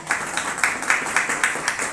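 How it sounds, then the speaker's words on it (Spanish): Applause for a teacher at a school staff gathering, a small group clapping in an even rhythm, about eight quick claps in two seconds, close and moderately loud. "un aplauso a la maestra Vero"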